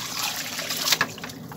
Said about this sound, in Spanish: Vamos a agregar abundante agua